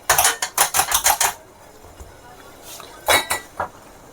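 Steamed litti for Bihari litti chokha clatters into a metal pot in a quick run of about seven metallic clinks, then after a pause two or three more clinks, loud and close.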